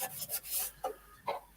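Wood is sanded by hand with no pad, in a series of short rasping strokes that come in uneven bursts, close and fairly loud, with no talking.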